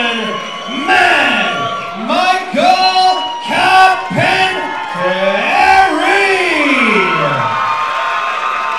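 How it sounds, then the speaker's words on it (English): A boxing event crowd cheering loudly, with rising and falling whoops and shouts in repeated bursts over a constant roar, close and energetic throughout. "The crowd is going off here, George."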